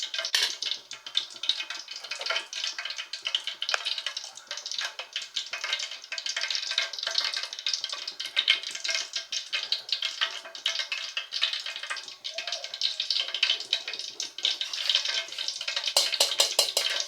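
Groundnut oil heating in a pot gives a continuous bright crackle and sizzle, close and even throughout, with faint clinks of cookware now and then.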